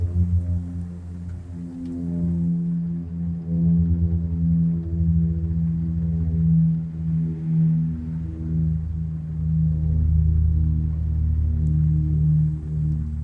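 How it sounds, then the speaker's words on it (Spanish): An old, rough Soviet light aircraft passes over the city of Córdoba far off, heard as a low, steady droning hum that wavers slightly in strength over several seconds, faint and alone with no voices. "Gracias a Álvaro Arias, este es el sonido de esa avioneta u avión, tosco y antiguo y de la Unión Soviética"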